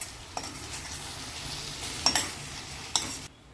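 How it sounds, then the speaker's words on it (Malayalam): Olan with cooked cowpeas being stirred in a pan, a soft sizzle under a few scraping and clacking strokes of a spoon against the pan, fairly quiet and without voices. "നല്ലോണം ഇളക്കി മിക്സ് ചെയ്യാം."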